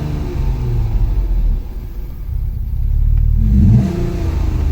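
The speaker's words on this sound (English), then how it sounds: "how well the audio is going to pick up the sound of the car and the engine" An Alfa Romeo V6 car engine revs up and down in deep, loud rumbling swells heard close, with the pitch climbing during a rev near the end.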